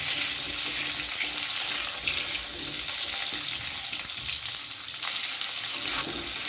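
Cut sweet pumpkin being stirred in a hot frying pan for a vegetarian mixed-vegetable dish, a continuous close hiss and sizzle with soft scraping from the stirring, no talking.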